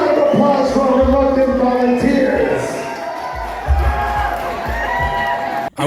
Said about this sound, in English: Big round of applause for our reluctant volunteers